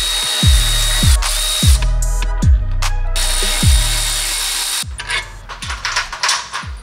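A power tool, likely an impact wrench, loosening a brake caliper bolt on a Maserati during a brake pad and rotor change, heard as loud, close, rhythmic repeated hammering bursts under a steady motor whine, then a rougher rattling spin-down.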